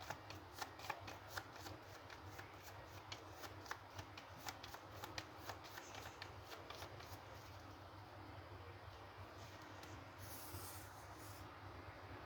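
A deck of tarot cards is shuffled over and over in a steady, continuous papery riffling, fairly quiet and close, with no talking.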